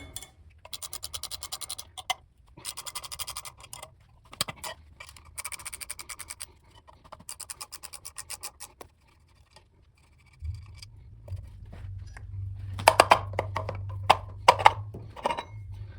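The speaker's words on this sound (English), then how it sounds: "the rear sprocket is just held on by 4 nuts here. So we're going to go ahead and take them off." Metal clicks and scrapes come from taking the four 12 mm nuts off the rear sprocket of a Kawasaki KLX 140 motorcycle. Bursts of ratcheting and scraping are separated by pauses, then a low hum and a few sharp clinks follow.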